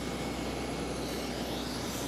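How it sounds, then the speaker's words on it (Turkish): Steady, loud engine drone of an aircraft pushback tug working near a plane at an airport, a continuous broadband roar with no pauses and no talking. "Bu uçağı geriye doğru iten araba."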